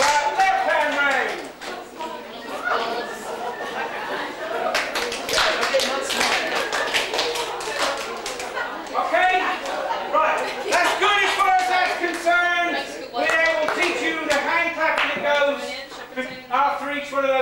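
Dancers clap hands in sharp bursts during a folk dance, the claps interleaved with a caller's spoken instructions and music, the slaps close and percussive in irregular clusters.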